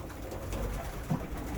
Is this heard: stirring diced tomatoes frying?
no